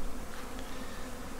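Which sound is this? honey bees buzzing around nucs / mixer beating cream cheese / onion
honey bees buzzing around nucs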